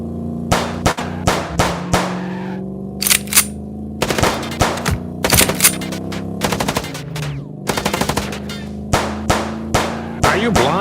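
Gunfire in the noir adventure game Chicken Police during a car chase: rapid, loud bursts of sharp shots in irregular clusters, clanging hits between volleys, over a steady engine-like drone.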